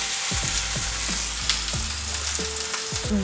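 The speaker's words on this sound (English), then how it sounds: "So I'm just gonna add my thighs. And you can hear it sizzle" Chicken thighs sizzle loudly in a hot cast-iron skillet, a steady crackling hiss with a few clinks and scrapes of a utensil against the pan.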